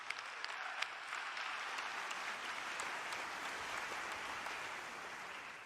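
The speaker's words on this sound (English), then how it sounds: "let's give it a round of applause to all the amazing things that you have done" An online stream audience gives a round of applause, a faint but continuous crackle of many hands clapping at an even level throughout, with a few sharper claps standing out and no talk on top.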